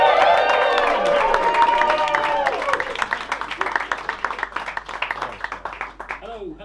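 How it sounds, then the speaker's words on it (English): Comedy club crowd at a Birmingham pub venue clapping and cheering to welcome an act, starting under a voice and a few whoops, then settling into dense, fading applause. "Let's have a big round of applause as you welcome to the stage,"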